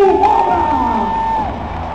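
Spectators at a Brazilian motorcycle stunt show cheer for a young rider, a steady crowd roar with whoops and shouts that carries across the arena and fades slightly toward the end.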